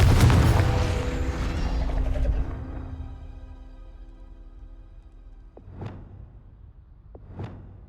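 Incendio and Confringo spells cast in Hogwarts Legacy: a heavy fiery boom fades into a long ringing decay, followed by two quick whooshing bursts.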